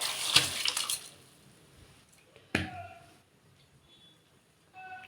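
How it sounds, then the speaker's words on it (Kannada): Rice is dropped into a pot of boiling salted water for palak rice, two quick splashing clatters a couple of seconds apart, then the quiet simmer, with faint kitchen clinks. "ಇವಾಗ ನೀರು ಕುದೀತಾ ಇದೆ. ಅಕ್ಕಿ ಹಾಕೋಣ."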